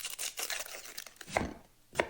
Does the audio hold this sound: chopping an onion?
yes